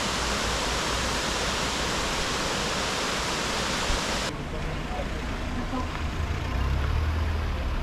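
A waterfall in Rastoke, Croatia roars as a dense, continuous rush of water, loud and close, its tone dulling partway through while it keeps pouring.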